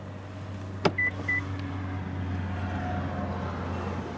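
2018 Nissan Murano Platinum power-return rear seat motor: a sharp click, two short electronic beeps, then a faint steady motor whir inside the cabin.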